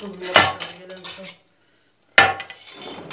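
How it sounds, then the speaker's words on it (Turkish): Dishes, pots and cutlery clatter and clink close by during home dishwashing, with a loud burst of clattering, a silent gap, then more rattling of metal and crockery. "Bulaşığı yıkarık."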